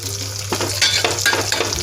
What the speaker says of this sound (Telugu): దంచిన వెల్లుల్లిపాయ ముక్కలు వేసి ఇలా వేయించేసుకోవాలండి.